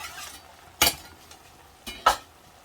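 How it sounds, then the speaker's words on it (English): Minced garlic stirred in a pan for chicken tacos, two short scraping strokes about a second apart, each a brief bright burst over a faint background sizzle, close and fairly quiet with no talking. "Give it a stir."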